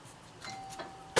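A doorbell chimes softly with a single sustained tone, followed by a sudden bump at the end.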